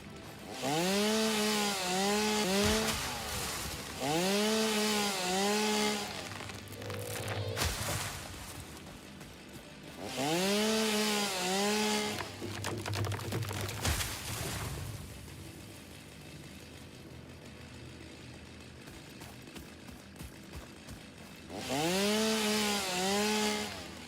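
Chainsaw in the video game Satisfactory cutting down trees, revving loudly in repeated bursts of a few seconds each with quieter gaps between, close and alone.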